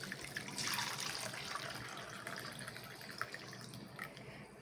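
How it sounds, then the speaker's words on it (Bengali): Cooled milk for sweet yogurt poured into a container at home, a soft continuous liquid splash and trickle that is strongest early on and then thins out, close and fairly quiet. "দুধটাকে এখন এখানে ঢেলে দিই।"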